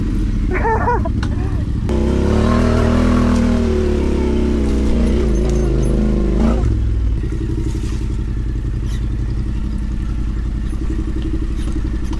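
Yamaha Tenere 700 adventure motorcycle on a rough ride with a failed rear brake, its engine droning and revving with clattering throughout, loudest in the early seconds, while people talk over it.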